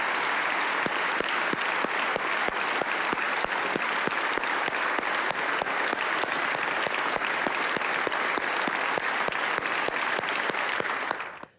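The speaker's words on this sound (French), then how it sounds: "vous l'avez entendu, énormément d'applaudissements" Sustained, dense applause from a large crowd in a senate chamber, steady and loud for about eleven seconds before cutting off abruptly.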